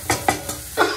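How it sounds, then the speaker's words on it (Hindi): Crumbled paneer stirred into a pan of frying onion, garlic, green chili and cumin, with a few short scraping strokes over a steady close sizzle, no talking. "और इसमें पनीर डाल दूँगी।"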